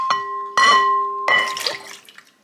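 Water poured into a cup while making cupcakes at home, heard as a few short, close splashes and clinks against the cup with ringing tones, then fading.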